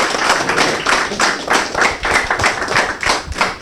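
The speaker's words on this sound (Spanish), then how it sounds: "fuertes palmas para él, por favor" A conference audience gives a loud round of applause for the speaker, dense hand-clapping that swells in quick rhythmic pulses for several seconds.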